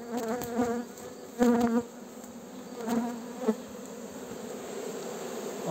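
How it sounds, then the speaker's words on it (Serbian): Honey bees at the entrance of a hive housing a newly caught swarm, a close, continuous buzz with louder swells as individual bees fly past, no talk. "Idemo pogledati malo iz bliže kako se pčela"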